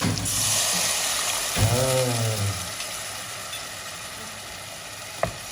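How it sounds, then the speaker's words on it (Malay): Water hits a hot pan of frying chicken for a Malay chili coconut dish, a loud burst of sizzling that flares up and settles into steady frying, with a sharp clack near the end. "kita masukkan sedikit air"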